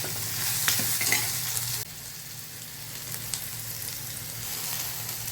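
Garlic, onion and masoor dal sautéing in a pan for a Bhogi vegetable and khichdi, with a steady close sizzle and frying crackle under scraping stirs. The sizzle grows slightly quieter after the first couple of seconds.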